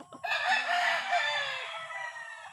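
A 10–11 month old gamecock rooster, a 'super sweater' fighting bird, gives one loud, close crow that rises sharply and trails off over about two seconds, with faint low clucks and farmyard noise beneath.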